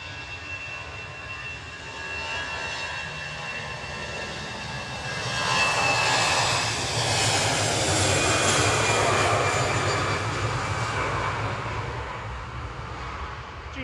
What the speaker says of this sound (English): GZPD departing to Nice there with flight 2103, A320 Classic